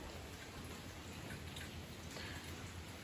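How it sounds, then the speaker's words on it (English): Steady rain with a thick, even hiss of falling drops, constant and moderately close throughout, with no voices. "I love that view of the rain"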